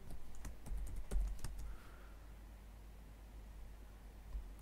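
Keys clatter on a computer keyboard as a passphrase is entered for PGP encryption, a short burst of close, quick taps over a low hum that then falls quiet.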